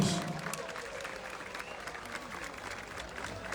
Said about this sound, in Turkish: alkışlar İrfan Güler için geliyor